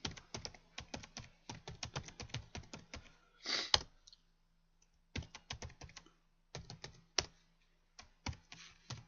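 Fingers type on a computer keyboard, entering hashtags in quick, close, crisp clusters of keystrokes separated by short pauses, with one soft breath partway through.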